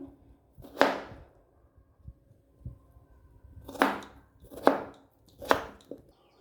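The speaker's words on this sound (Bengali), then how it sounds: "দুটো বড় সাইজের আলু নিয়ে নিয়েছি খোসাটিকে ছাড়িয়ে নিয়েছি একইভাবে কেটে নিতে হবে" A knife chops large peeled potatoes on a cutting board, making a few sharp, close strikes spaced irregularly, with quieter soft taps in between.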